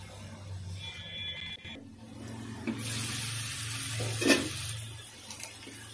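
Mutton curry cooks in a pan with a steady soft sizzle, with scraping stirring sounds and a brief clatter partway through.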